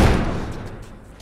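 A heavy door slams shut with a loud, deep thud that decays quickly, heard while it is being barricaded in The Last of Us video game.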